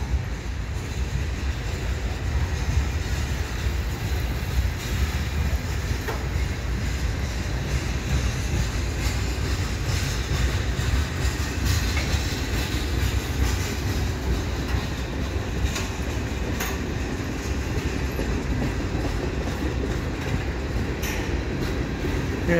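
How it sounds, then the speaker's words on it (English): A CN freight train with a Dash 8-40CM locomotive passes at the Butler Street Bridge in St. Charles on a rainy October evening, a steady rumble and rattle of rolling cars that holds for over twenty seconds. "And I was just waiting for this train."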